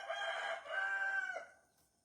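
A rooster crows once, loud and fairly close, in a long wavering call that fades out, among chickens with no talking over it.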